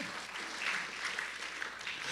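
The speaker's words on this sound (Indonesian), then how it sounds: "Ayo tepuk tangan yang meriah bagi Tuhan Yesus." A church congregation applauds for Jesus during a sermon, a soft, steady wash of many hands clapping, distant and fairly faint throughout.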